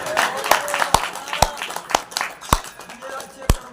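Steady hand claps ring out roughly twice a second at a religious Bhagavat katha discourse at Bareitha Dham on Bhind Road, the sharp beats falling under ongoing talk and low background murmur.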